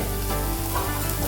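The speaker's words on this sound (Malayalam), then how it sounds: "ഈ സവാള ആ എണ്ണയിൽ കിടന്ന് നന്നായിട്ട് വഴന്ന് കിട്ടണം. അതിന് നമ്മൾ നന്നായിട്ട് ഇങ്ങനെ ഇളക്കി കൊടുക്കുക." Onions fry in hot oil as they are stirred, giving a dense, close-up sizzle with scraping stirring noises and no talking.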